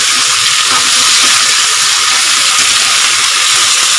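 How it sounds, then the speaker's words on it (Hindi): Arbi (taro root), green chilli and jackfruit fry in a pan over medium gas, giving a loud, steady close-up sizzle and hiss with no pauses and no voices. "अरबी और हरी मिर्च मैंने डाला, कोई कटहल पका था नहीं, कटहल डाल दिया, गैस को मीडियम रखें"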